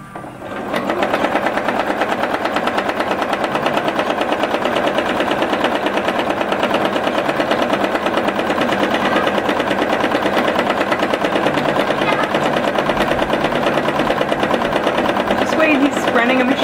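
A sewing machine doing free-motion thread painting runs with a fast, steady mechanical whir and needle chatter throughout, close and loud, with faint voices in the background.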